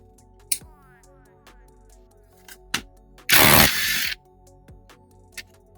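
A small socket wrench works on an automotive air conditioning compressor clutch. Several sharp metallic clicks and knocks sound close by, and one dense burst of noise lasts nearly a second.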